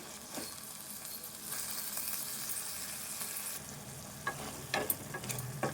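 Tomatoes fry in a pan with a continuous, fairly quiet sizzle. A few sharper clicks and scrapes toward the end come from the food being stirred.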